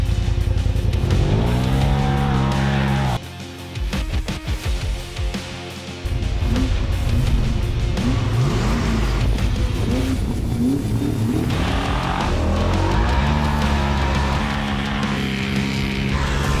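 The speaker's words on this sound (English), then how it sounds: "This is the Drag Race Challenge, where drivers will be put up against the Polaris Turbo R in a straight line sprint." A Nissan GQ Patrol and a Polaris RZR Turbo R side-by-side in a straight-line drag race, with loud engines revving and roaring through gear changes, a brief dip, then sustained acceleration, close and strong throughout.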